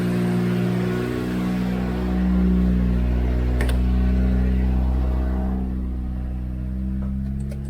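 A turbo Corolla engine revs with a steady mid-pitched drone and harmonic whine as the wheels spin, loud and close with a brief swell in the middle, no talking.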